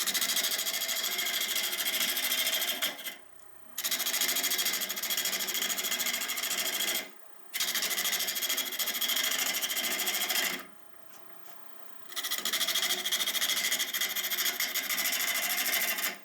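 A small gouge hollows a natural edge olive wood bowl turning on a lathe, producing a continuous loud rasping buzz in long passes separated by three brief breaks, with no voices.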